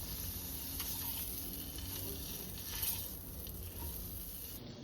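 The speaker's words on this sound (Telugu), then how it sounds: "ఇలా కేర్ఫుల్గా ఎగ్స్ అన్నీ ఫ్రై చేసుకోవాలి మనం" Pierced boiled eggs frying in a pan for egg curry, a soft steady sizzle of hot oil, faint and continuous with no voices.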